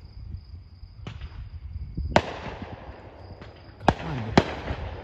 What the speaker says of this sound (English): That is why you do not do fireworks.